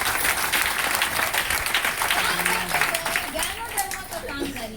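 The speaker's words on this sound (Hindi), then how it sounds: "फिर से उनके लिए जबरदस्त तालियां" Enthusiastic crowd applause at a motivational business gathering, dense continuous clapping that gradually tapers off while voices and chatter rise underneath.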